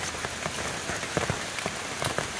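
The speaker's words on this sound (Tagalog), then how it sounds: "bumagsak yung malakas na ulan" Heavy rain pours down outdoors, a dense and steady patter with scattered sharper drops striking nearby surfaces.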